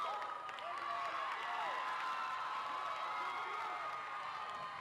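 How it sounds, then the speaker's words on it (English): A large arena crowd at a cheerleading world championship roars and cheers continuously, a dense wall of shouts, whoops and scattered clapping that stays loud throughout. "You can hear the crowd roaring for the Generals."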